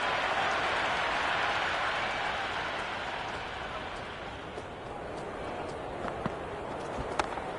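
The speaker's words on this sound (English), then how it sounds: "The crowd is electric right now." Crowd noise in the cricket video game Cricket 26 after a big hit over the boundary: a broad, steady roar of cheering that slowly eases, with faint scattered clicks near the end.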